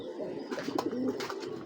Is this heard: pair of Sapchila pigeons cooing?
yes